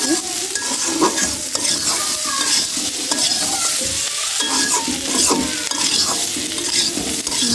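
Potatoes stir-fry in a pan with a continuous loud sizzle, overlaid by repeated scraping and stirring strokes throughout, with no voices.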